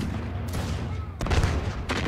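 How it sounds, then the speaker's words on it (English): Soldiers fire rifles from a set position in a Mahdist Rebellion war game, with a few loud volleys and bursts rising over a steady noisy battle background. "Soldiers firing from their position."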